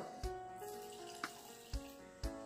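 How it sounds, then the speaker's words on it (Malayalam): Water added to crushed dry ginger and herbs for a home cough remedy, running in a steady ringing stream into a metal vessel, with a few sharp knocks along the way. "ഇനി നമുക്ക് വേണ്ടുന്നത് നമുക്ക് വെള്ളം ചേർക്കാം"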